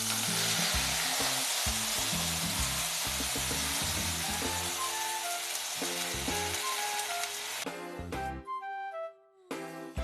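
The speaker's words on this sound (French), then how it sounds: "je vais venir verser l'eau." Water poured into a hot pan while cooking ramen sets off a loud, dense hiss and sizzle with bubbling crackles, easing off and breaking into scattered pops toward the end.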